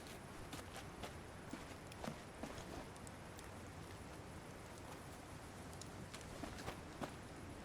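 Horse hooves clip-clop on hard ground in Syberia: The World Before, a steady walking rhythm of faint, scattered clicks running for several seconds over a soft ambient bed.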